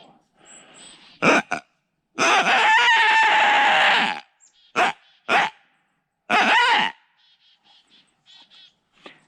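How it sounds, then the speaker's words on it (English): A yodel yapper predator call for trapping gives several squeaky yapping and yodeling bursts, a couple of short yips, one long wavering wail, then a few short yelps and faint trailing squeaks, close and loud with pauses between. "And my yodel yapper, here we go."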